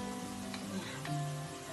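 Garlic fries in a pan until golden brown, making a steady, close sizzle and crackle with light stirring over a low background hum.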